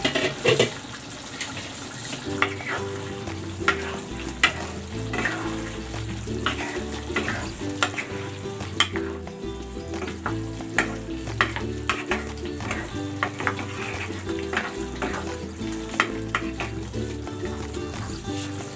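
Chicken for a creamy coconut-milk stew cooking in a covered pan, giving a steady sizzle and bubbling with occasional stirring and clinks throughout, fairly close and continuous with no talk.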